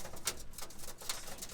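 Roller pigeons perched after training, giving soft low cooing notes that repeat a few times close by, with faint rustling and patter in the background.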